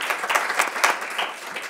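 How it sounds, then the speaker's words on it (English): Brief burst of audience applause at a state community grants ceremony, many hands clapping together in a dense patter that tapers slightly at the end. "You can applaud yourselves for that"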